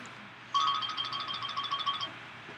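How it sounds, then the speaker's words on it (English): An iOS 7 ringtone plays: a bright, tonal electronic chime melody starting abruptly after a quiet half second, with rapid repeated notes for about one and a half seconds, then stopping. "there's new ringtones for iOS 7"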